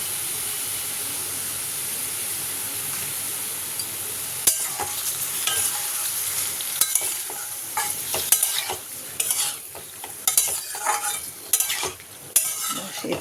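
Pasta fries in a pan with tomato sauce and soy sauce, under a constant close sizzling hiss, with irregular scraping and clinking strokes of stirring that grow busier toward the end.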